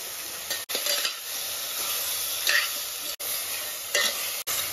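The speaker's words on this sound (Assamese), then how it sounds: "তাৰপিছত এইফালে ভালকৈ লৰাই দিছোঁ" Spices with salt and turmeric being stirred in a frying pan, a constant sizzle with brisk scraping strokes and a few sharp metallic clinks of the utensil against the pan.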